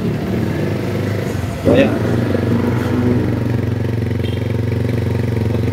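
Rusi motorcycle at a repossessed-unit dealer branch in Bocaue idles with a steady low rumble, with a brief blip as it catches, while someone talks nearby.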